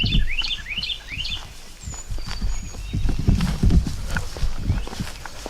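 A wild turkey calls in North Carolina woods: a quick run of high, sharp calls early on, then scattered faint calls over crunching footsteps on leaf litter.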